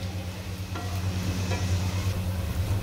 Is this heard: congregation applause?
no